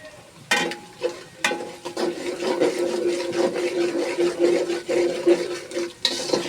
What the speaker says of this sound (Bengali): এখন আম্মু আবার একটু মিক্সড করে দেবে ভালো করে